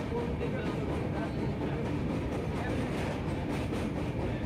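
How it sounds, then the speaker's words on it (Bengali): A train runs at high speed across a long bridge over the Godavari river, heard from on board as a loud, continuous rumble and rattle of wheels on track. "আমরা পার হয়ে দেখি, ট্রেন খুব স্পিডে চলছে"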